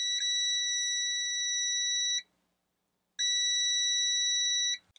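A VENLAB VM-600A digital multimeter sounds its continuity-test beep as two steady, piercing electronic tones, each about two seconds long with a one-second gap between them, loud and close with no voices.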